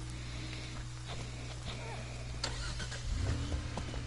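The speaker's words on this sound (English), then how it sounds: "Someone's got a car." A car engine cranking and starting in the horror game Friday the 13th, a low rumble that swells near the end, with faint talk over a steady background hum.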